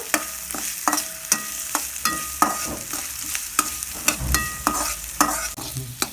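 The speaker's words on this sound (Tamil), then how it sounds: "பச்சை மிளகாய், நல்லா வதக்கிக்கோங்க." Green chillies and onions being sautéed in a pan, with steady frying sizzle under repeated sharp stirring scrapes of a spoon against the pan, close and fairly loud, no talk.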